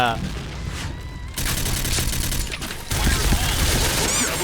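Bursts of video game gunfire rattle in rapid volleys, loud and close, with a second heavier barrage kicking in partway through over a continuous background of game noise.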